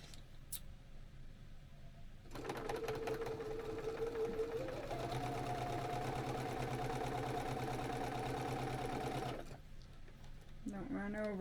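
A sewing machine runs steadily for about seven seconds sewing a quarter-inch seam, a quiet, fast mechanical whir with a slight pitch rise partway through, stopping cleanly before a voice speaks.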